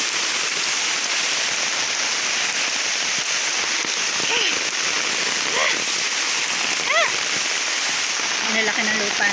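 Heavy rain pours steadily, a constant hiss of drops with a few faint chirping sounds scattered through it.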